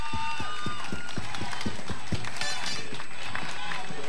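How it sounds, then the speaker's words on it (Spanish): Audience at the Miss Panama 2012 pageant clapping in sharp, loosely rhythmic bursts over music, with a voice talking on stage. "¡Fuerte el aplauso!"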